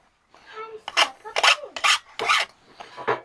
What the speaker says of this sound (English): I'm just deburring this